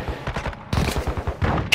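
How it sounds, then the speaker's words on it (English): Rapid automatic gunfire hitting the player in Call of Duty: Modern Warfare II DMZ, three close, loud bursts of fast rattling shots separated by brief gaps. "Oh no, I'm getting shot"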